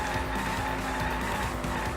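A car in a Danganronpa V3 minigame drives with steady engine noise and continuous tire skidding, loud and close throughout with no pauses.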